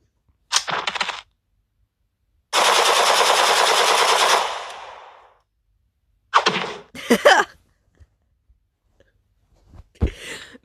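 Video game gunfire in a diamond-heist game: a short burst, then a long sustained automatic volley of about two seconds, followed by a few scattered shots and cracks, loud and close, with no talking.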